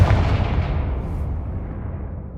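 Bombarda blast spell from Hogwarts Legacy, a loud booming explosion at the start that rolls off into a long, dense rumble and settles over a couple of seconds.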